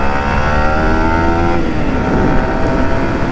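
A modified Hero Splendor motorcycle engine revs hard and steadily up close, climbing through full RPM with a dense, buzzing exhaust note and no talk over it.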